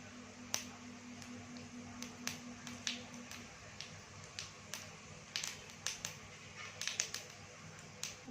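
Mustard seeds popping in 1 to 1.5 spoons of hot oil in a kadhai for dhokla tempering, with cumin to follow: scattered sharp crackles and snaps, irregular and close, over a low steady hum.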